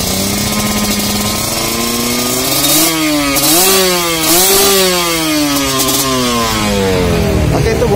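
A Kawasaki Ninja RR 150 with a standard engine and a hollowed stock exhaust idles loudly and close by, then revs up and down twice in quick succession. Its raspy, buzzing note climbs and falls before settling back to a rough idle.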